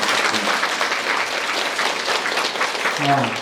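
A crowd applauds steadily at the opening of a 2016 gallery exhibition of Buddhist carvings on stone, with a dense, continuous patter of many hands that stays close and loud throughout.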